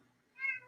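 A single short cat meow, fairly faint and close, rising briefly out of near silence.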